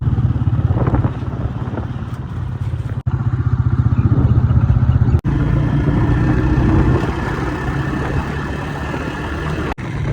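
A motorcycle engine runs steadily on a village road in Pakistan, a loud continuous mid-pitched drone with faint clatter and a few brief sharp breaks in the sound.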